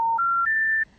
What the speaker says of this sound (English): those 3-note special information tones that signal a non-working number